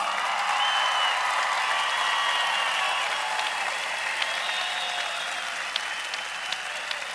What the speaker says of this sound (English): Give a warm round of applause to Miss Connie Woodruff.